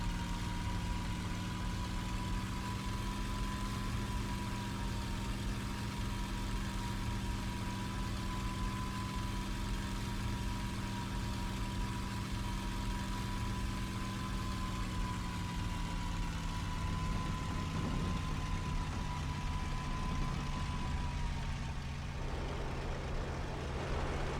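A fighter's piston engine drones steadily in a WWII flight combat game, with a sustained tone that sags lower toward the end as power fades, loud and continuous with no voices.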